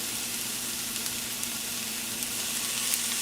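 Soy sauce sizzles steadily in a hot frying pan with garlic, a continuous bright hiss at even loudness with small crackles and no voices.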